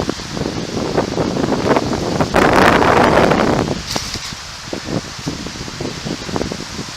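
Strong wind sweeps a pine-covered ridge top with a constant roaring rustle and buffeting. It swells louder in the middle, then eases to gusty bursts.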